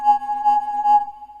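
A Serum synth lead, the Lead Softy preset from the Adapt Volume 2 bank, plays dry without effects: one steady, clean, sine-like tone held for just over a second, then fading slightly.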